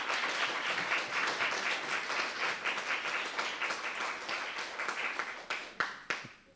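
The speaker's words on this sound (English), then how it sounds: "let us give a round of applause," An audience at an academic session on development, e-participation, policy modelling and artificial intelligence breaks into applause, a full round of dense clapping that holds steady before trailing off into a few sparse, loud single claps near the end.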